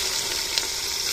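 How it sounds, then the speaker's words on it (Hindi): Chopped onions hitting hot oil in a home village kitchen, a steady broadband sizzle that holds evenly throughout, close and fairly loud, with no talking. "अभी जो है ना मैं डालने लगी हूँ प्याज"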